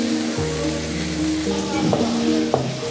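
Prawns sautéing in a pan with already softened onion and garlic give off a steady, close sizzle, joined by occasional stirring clinks and a faint tonal hum in the background.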